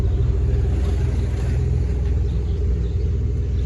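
Car fitted with a TIGS exhaust running at idle close by, a loud continuous low rumble with an even throb, no people talking over it.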